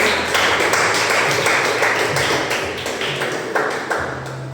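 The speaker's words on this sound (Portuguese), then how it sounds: "aplauda o Senhor" A church congregation clapping in praise during a prayer service, steady dense applause with sharp individual claps standing out, continuing for several seconds at close range.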